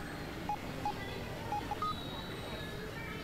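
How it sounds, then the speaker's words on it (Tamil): A mobile phone dials out to place a missed call, giving a few short, faint keypad beeps spaced irregularly over soft background noise. "சரவணனுக்கு ஒரு மிஸ் கால் கொடுக்கறேன்."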